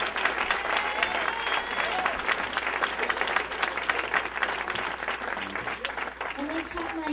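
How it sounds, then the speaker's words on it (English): A church congregation claps along, dense and steady, with many hands sounding close and far at once over voices and background music, continuing without pause. "I want you to clap your hands to Jesus"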